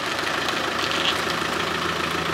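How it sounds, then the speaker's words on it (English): A 1998 Land Rover Defender with a 300 TDI diesel engine idles steadily nearby, a continuous rough, knocking rumble at even level with no talk. "She's a 1998 300 TDI Land Rover Defender"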